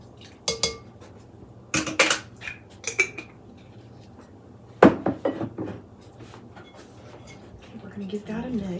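A utensil stirs creamy chicken taquito filling with lime juice in a bowl, giving scattered clinks and scrapes in uneven bursts, with a voice talking close by in between.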